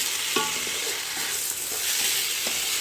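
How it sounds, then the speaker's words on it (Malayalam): Steady sizzling of rice frying in a pot for Thalassery biryani, with a few soft scraping stirs and clinks against the metal. "നന്നായിട്ട് ഇതിനെ വറുത്തെടുക്കണം"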